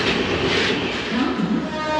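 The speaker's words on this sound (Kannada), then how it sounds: "ಟ್ರೈನ್ ಡಿಪಾರ್ಟ್ ಆಯಿತು, ರೈಟ್ ಟೈಮಿಗೆ ಡಿಪಾರ್ಟ್ ಆಯಿತು" Passenger train pulling out of a station on the Yeshwanthpur–Mangaluru line through the Western Ghats, heard from inside a Vistadome coach as a steady, close rumble of wheels and carriage noise throughout.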